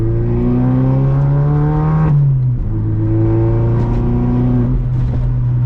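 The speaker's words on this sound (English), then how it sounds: "you can hear a little turbo noise, but like I said, what's the fun in having a turbo car if you can't hear the bypass valve in the turbo?" A loud turbocharged LNF Chevrolet Cobalt with a ZZP fenderwell intake drones steadily as the engine pitch rises. Partway through it drops with a quick bypass-valve whoosh before building again, heard close.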